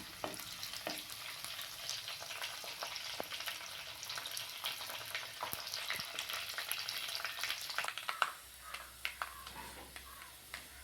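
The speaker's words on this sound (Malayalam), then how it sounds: "നമുക്കൊന്ന് കടുക് വറുത്തെടുക്കാം." Mustard seeds fry in hot oil with dried red chillies and curry leaves for a prawn curry, a steady close sizzle dotted with sharp pops and crackles that grow sparser near the end.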